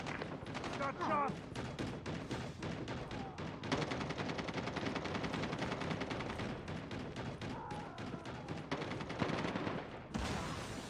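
Rapid automatic gunfire from a deployed sentry gun during a Call of Duty Mobile match (DR-H gameplay), sustained bursts mixed with other in-game shots and game sounds, loud and continuous throughout.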